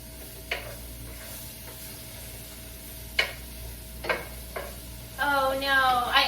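Two large garlic cloves hit a hot pan near the end, setting off a sudden bright sizzle after a few scattered clicks and clatters from the cookware, heard close.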